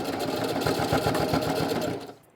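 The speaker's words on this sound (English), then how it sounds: "I'm going to switch it back to a straight stitch and do my back stitch with that" Sewing machine running a straight back-stitch along the hem of athletic pants, a steady close mechanical whir with a rapid needle rhythm that runs evenly, then stops near the end.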